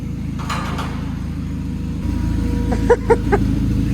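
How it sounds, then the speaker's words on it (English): A Volkswagen Beetle driving, a steady low engine rumble heard from inside that grows slightly louder partway through, with a few short clicks near the end. "All right, first drive of the Beetle."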